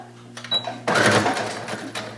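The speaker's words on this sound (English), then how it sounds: "I'm going to sew" A sewing machine stitches a seam on a tote bag, starting with a short whir and then running in a fast, steady mechanical buzz up close, broken by a couple of brief clicks.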